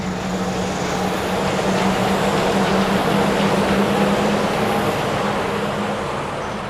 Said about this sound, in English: Here comes the monorail.